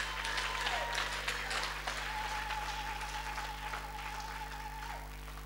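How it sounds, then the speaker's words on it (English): Church congregation clapping in praise during a sermon, a steady sustained wash of applause at moderate level with faint whistles or tones running through it. "give the Lord a powerful clap of"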